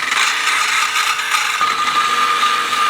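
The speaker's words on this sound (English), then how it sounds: "Let's zap her with this grind bit here." A power grinding bit runs steadily against split metal exhaust tubing, smoothing the cut edges with a loud, continuous high-pitched whir and grinding hiss, close up and uninterrupted.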